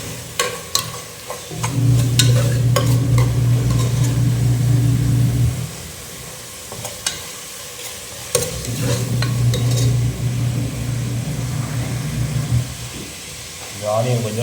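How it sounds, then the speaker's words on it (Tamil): Chopped onions sizzling and being stirred in a pot of oil with cloves and cardamom for beef biryani, two long stretches of steady frying hiss with scraping stirs, separated by a quieter pause. "இந்த ஆனியன் கொஞ்சம் நல்லா ப்ரௌன் ஆகட்டும்."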